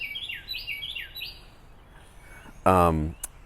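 A bird chirps in a quick series of bright, sweeping calls near the start, followed by quiet and then a short loud burst of speech.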